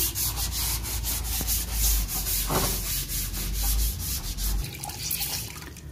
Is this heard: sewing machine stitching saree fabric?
no